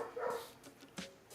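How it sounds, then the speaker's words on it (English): A playful pet dog, Buddy, gives faint, short barks and whimpers indoors, a few brief yips scattered across a quiet background. "I don't know if you guys can hear the dog"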